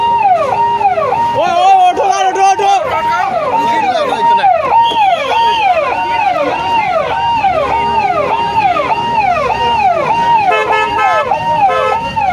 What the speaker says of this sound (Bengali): অ্যাম্বুলেন্সের সাইড দেওয়া হয়েছে, অ্যাম্বুলেন্সটা গেছে গিয়া।